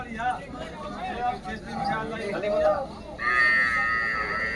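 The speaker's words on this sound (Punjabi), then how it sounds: "ਚੰਗੀਆਂ ਮੱਝਾਂ ਲੈ ਕੇ ਆਇਆ ਬਾਈ ਮੰਡੀ ਰਾਮਪਰਾ ਤੇ" People talking over market bustle at the Rampura cattle market, then a loud drawn-out water buffalo moo near the end.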